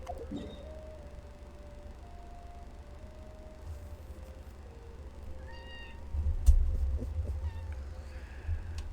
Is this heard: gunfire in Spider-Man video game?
no